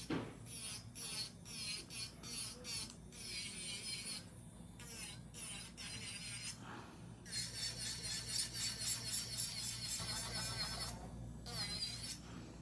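A high-pitched electric nail drill with a cross-cut bit whirs and grinds in bursts as it files acrylic nails, its pitch shifting as it files; steady machine hum underneath.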